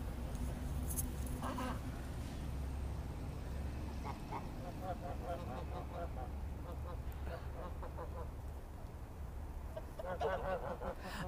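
Geese honk and cackle in bursts at a moderate distance at Black Creek Pioneer Village, with people talking faintly amid outdoor background noise.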